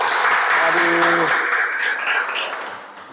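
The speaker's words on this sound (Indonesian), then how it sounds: "Tepuk tangan dulu dong." A group claps at a coaching session, loud dense applause that begins at full strength and fades over a few seconds while a voice briefly speaks early on.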